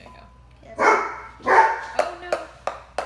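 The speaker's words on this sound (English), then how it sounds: "Sorry, that's our dog." A big dog barks indoors, two longer loud barks followed by several shorter sharp yips, close by, with a person speaking briefly at the start.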